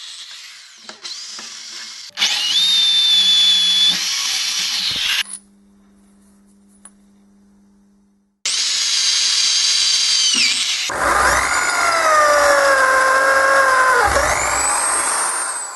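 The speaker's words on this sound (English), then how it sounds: "Next another 12mm hole was drilled through them." Drilling a 12mm hole through steel pieces, a loud whining drill in two long runs separated by a quiet pause, with squealing bit-on-metal tones in the second run.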